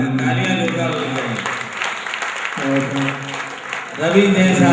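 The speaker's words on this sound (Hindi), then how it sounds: "तालियां जोरदार हो जाए।" An audience at a Hindi poetry recital applauding steadily through the whole moment, with a voice speaking over the clapping at the start and again near the end.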